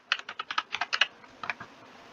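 A page title is typed on a computer keyboard, a quick run of about ten close, crisp keystrokes followed by a short pause and a few more taps.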